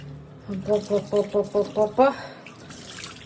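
Tap water running while a hand is washed after a plaster cast comes off, a soft splashing flow with a quick run of rhythmic gurgling pulses in the middle, fairly close under faint background noise.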